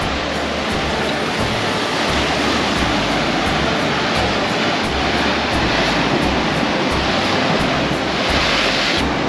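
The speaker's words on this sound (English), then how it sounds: "We're all crashing here on the waves, crashing here on the rocks" Ocean waves crash continuously against rocks at a surf break, a loud, dense roar of churning water with steady wash and spray, close by and without talk.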